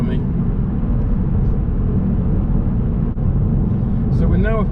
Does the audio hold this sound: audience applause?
no